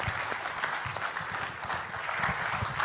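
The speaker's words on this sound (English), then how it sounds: "I think we all would like to express to you very loud applause and vote of thanks for your leadership" Audience applause at a national seafood exports workshop in Vizag attended by the Andhra Pradesh Chief Minister: steady, even clapping from a large hall crowd, moderately distant and sustained without pause.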